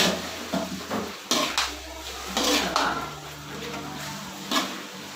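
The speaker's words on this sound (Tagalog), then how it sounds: "Haluin na natin siya." Two ladles stir carrot and red pepper in a metal pot, making repeated close clanks and scrapes at an uneven rhythm over a low background hum.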